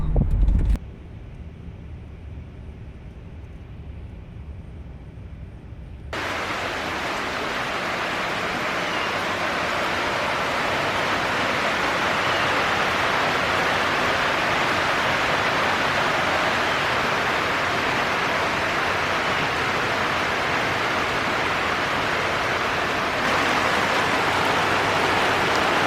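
Dense, steady rain from Tropical Depression Imelda roars without a break, a heavy downpour under a tornado warning that jumps louder after a few seconds and keeps up to the end.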